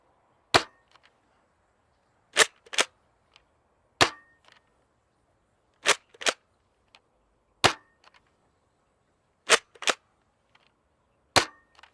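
Nerf Pro Torrent spring-powered blaster firing foam darts: eight sharp, loud snaps, some in quick pairs, spaced roughly every one to two seconds over a quiet background with no talking.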